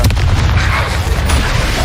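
A Confringo spell explosion in Hogwarts Legacy: a loud, deep, rumbling boom that fills the short moment with a sustained roar.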